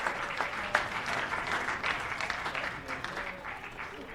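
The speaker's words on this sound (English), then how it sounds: "gets a round of applause." A baseball crowd at a Medford Mustangs versus Corvallis Marketmen game gives steady applause as the pitcher leaves the mound in the sixth inning, a dense, even patter of many hands from the stands lasting throughout.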